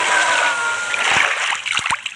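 Swimming splashes in Minecraft, a burst of watery splashing and sloshing over a couple of seconds that ends in a few sharp splats, fairly loud.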